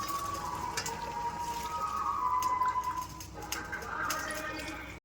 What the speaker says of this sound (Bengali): এবার এই কাপটা মেপে 3 কাপ গরম জল দিয়ে দিচ্ছি।